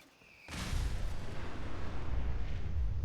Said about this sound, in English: that one explosion is really far to the left